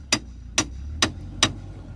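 A hammer strikes an off-road vehicle during a steering repair, landing four sharp, evenly spaced metallic blows close by with a faint low hum between them.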